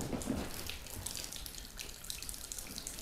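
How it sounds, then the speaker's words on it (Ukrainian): Water runs steadily from a tap as it drains, a constant hissing splash with faint drips, moderately quiet and without talk. "Подкручувати отут, а хай спускається вода."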